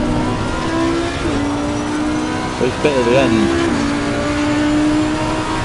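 Race car engine in Assetto Corsa Competizione, a steady high engine drone that climbs through gear shifts at speed on track, running under continuous talk from a nearby voice.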